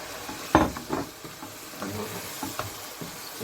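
Okra hits hot masala in a pan with a sharp initial sizzle, followed by softer scraping stirs and patchy frying crackle.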